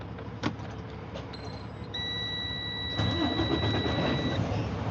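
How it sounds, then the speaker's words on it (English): A truck engine cranks over and catches, then settles into a steady idle with a thin whine running above it. The sound is close and continuous, with no talking. "Let me pull this truck up real quick."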